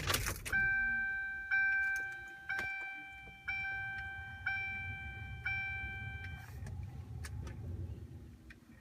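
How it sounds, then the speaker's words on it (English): A car's ignition is switched off and back on, setting off a repeating electronic chime, about eight evenly spaced tones of one pitch, clear and close inside the car, followed by a low idle hum. "we'll go ahead and shut the car off and switch it back to on real quick"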